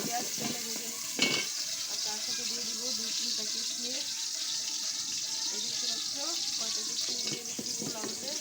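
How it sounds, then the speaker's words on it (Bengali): Green chilies and onion fry in hot oil over a clay stove, a constant bright sizzle with occasional stirring scrapes while someone talks over the cooking. "তেলটা হালকা গরম হয়েছে তো আমি দিয়ে দিলাম কাঁচামরিচ আর কিছু কোলে রাখা পেঁয়াজ দিয়ে দিচ্ছি"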